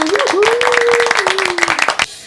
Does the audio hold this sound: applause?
yes